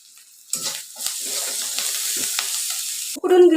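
Boiled, lightly smashed potatoes are stirred with spices for vada pav filling, a close scraping and mixing sound with a soft sizzling texture that runs continuously, ending in a brief sharper clatter.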